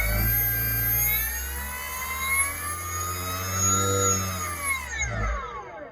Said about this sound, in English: listening how nice and smooth the sound of the motor is, right? From takeoff to, you know, full or half throttle